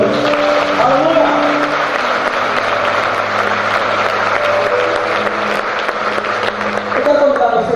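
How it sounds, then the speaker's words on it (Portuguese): Church congregation applauding at an evening service, a dense, steady wash of clapping that fills the hall throughout, with voices and music tones running underneath. "Você pode aplaudir o Senhor nessa noite?"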